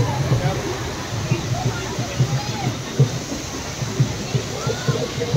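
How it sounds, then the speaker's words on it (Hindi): A water fountain sprays at a rose festival garden, a continuous rushing, splashing hiss running under a person talking nearby. "ये फुहारा है कितना खतरनाक, वाटरफॉल"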